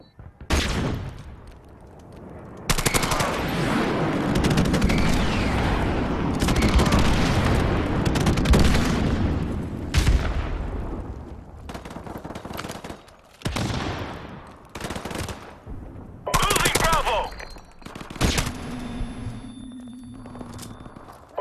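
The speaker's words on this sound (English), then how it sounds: "Keep up the fire. Target neutralized. Friendly airstrike on the way." Gunfire and airstrike explosions in Call of Duty Modern Warfare Remastered, with dense loud bursts of automatic fire and heavy booms through the middle, then sparser shots and blasts trailing off, with no spoken voices.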